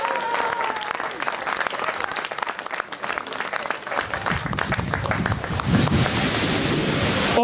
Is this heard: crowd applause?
yes